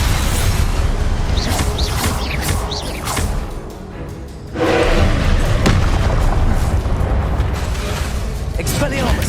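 Heavy booming blasts from the Confringo spell in the video game Hogwarts Legacy, loud and continuous with dense rumbling layers, easing briefly midway before surging back.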